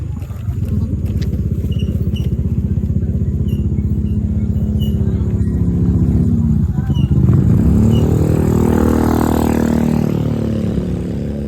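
A motorcycle engine runs steadily and loud throughout, its pitch rising and sweeping as it revs up near the end.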